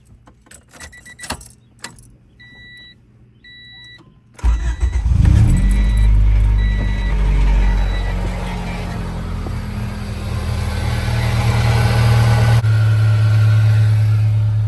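Keys jingle and a door-ajar chime beeps before a car with a gutted catalytic converter cranks and fires up, then settles into a loud, steady idle with a deep, throaty exhaust rumble.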